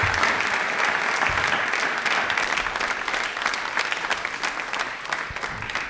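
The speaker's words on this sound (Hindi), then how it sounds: "तालियां प्लीज एक बार सर प्लीज, जोरदार आवाज में सर प्लीज" Loud, dense applause from an audience at a televised quiz event honouring Birsa Munda's birth anniversary, a sustained wash of clapping that holds steady throughout.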